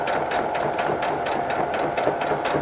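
A sewing machine stitches a rag quilt seam at a 5/8 inch allowance, giving a close, steady mechanical whir with a fast rhythmic pulse that runs without pause.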